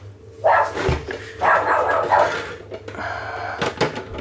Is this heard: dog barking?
yes